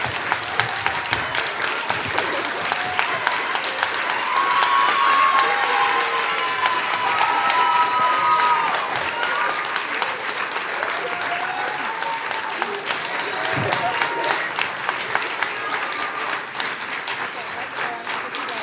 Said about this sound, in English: Can we give them one more clap?